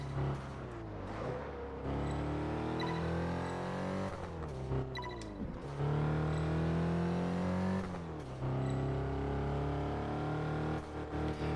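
A V12 car engine revs hard in Test Drive Unlimited 2, its loud, harmonic roar climbing and dropping through several throttle sweeps with brief lifts between them, close and continuous with no talk.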